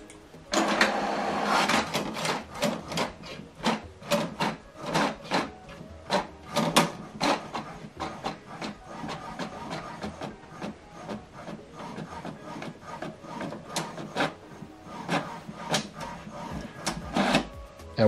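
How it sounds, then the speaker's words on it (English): HP Deskjet 2700e inkjet printer printing the second page of a double-sided document: rapid rhythmic clacks of the print head sweeping back and forth over mechanical whirring, close and steady for many seconds, with no talk. "Okay, then you go back to print the second page, then you select continue."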